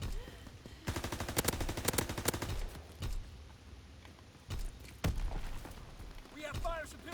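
Gunfire in a World War II video game: rapid automatic bursts and single shots at moderate distance, with bursts early on and intermittent shots after, under occasional overlapping voices.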